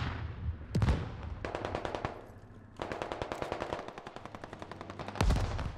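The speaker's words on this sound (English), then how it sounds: "We're taking shots somewhere dead east" Automatic rifle fire in the video game Squad during a 50 vs 50 Fallujah battle: rapid bursts of sharp shots, some loud and near, others in long rattling strings, with heavy single cracks at the start and end.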